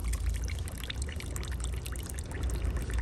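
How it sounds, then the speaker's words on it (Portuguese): Water poured steadily into a container with a continuous splashing, trickling rush, close and moderately loud, heard alone for a few seconds. "Vou pôr mais água ali"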